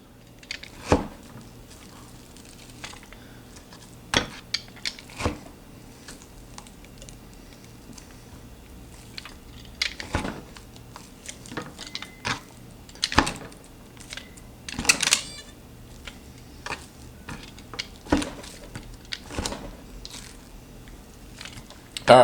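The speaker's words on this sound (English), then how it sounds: "I'm gonna really tenderize this." Kitchendao deluxe 48-needle meat tenderizer stabbing into a cut of meat, sharp crunchy clicks and punches at irregular intervals, sometimes in quick clusters, close and fairly quiet in between.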